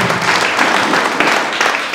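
Church congregation at Nyamataro PAG in Kisii applauding, a loud, dense wash of many hands clapping at once, close and continuous.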